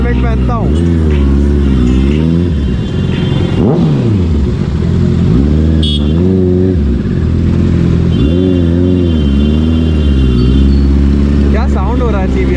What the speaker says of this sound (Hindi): क्या साउंड हो रहा है CBR का भाई